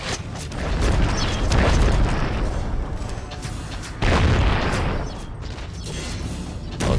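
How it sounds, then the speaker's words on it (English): Cannon fire and incoming cannonballs in the strategy game Settlers: Heritage of Kings produce loud, dense booming blasts with rumbling impacts, one heavy burst swelling then another sharp blast a few seconds later, filling the clip without talk. "It looks like they have cannons of their own, because I'm seeing some cannonballs coming over here."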